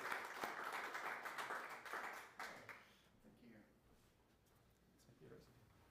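A seminar audience applauds a guest speaker, brisk clapping for about three seconds that fades out, followed by quiet room sound with faint murmuring voices.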